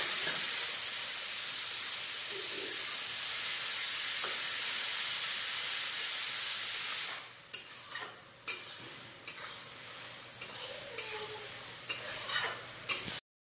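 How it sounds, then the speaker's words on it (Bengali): Masala of chilli powder and ground coriander and cumin in a pan with a splash of water added, first a loud steady hissing sizzle, then quieter frying broken by repeated stirring scrapes, no voices. "অল্প একটু জল দিয়ে মশলাটা কষিয়ে নেব।"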